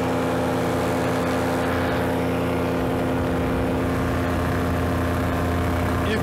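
A paramotor engine at 60% throttle drones steadily at a constant high pitch above the clouds, loud and unbroken, with wind noise underneath.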